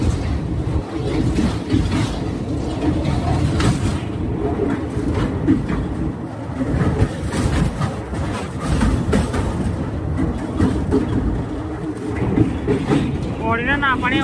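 A moving train rattles along steadily, carriages clattering and rumbling loudly and close throughout, with voices talking over the noise.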